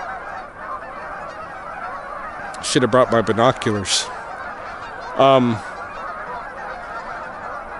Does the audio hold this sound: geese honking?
yes